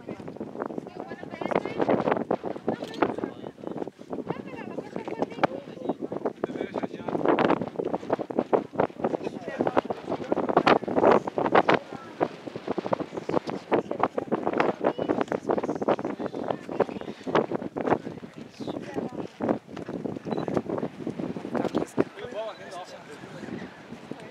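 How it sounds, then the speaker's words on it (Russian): Strong wind buffets the microphone in dense, roaring gusts throughout at the Horseshoe Bend overlook above the Colorado River in Page, Arizona, with a voice speaking now and then beneath the rumble. "Ветер дует, конечно, очень сильный."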